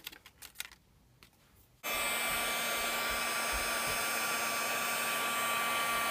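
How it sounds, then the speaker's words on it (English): A few faint taps come first, then an embossing heat tool switches on and blows hot air in a loud, steady whoosh that keeps going to the end. "I'm going to get my heat tool and heat up my flowers and my words and get those set."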